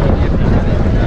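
Crowded ferry boat pulling away toward Delft Island off Jaffna: loud continuous engine rumble and wind rush against the microphone, steady for the whole moment with no clear talk.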